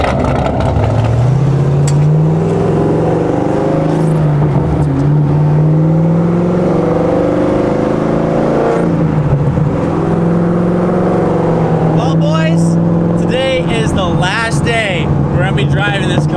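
A loud 1,000-horsepower Corvette engine idles and warms up, a steady deep rumble with shifting revs throughout, with voices talking over it.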